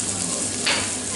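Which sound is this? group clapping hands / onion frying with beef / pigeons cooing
onion frying with beef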